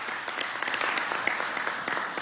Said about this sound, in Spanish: Un aplauso para nuestra patria